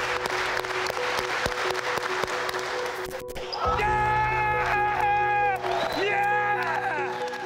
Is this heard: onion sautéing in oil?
no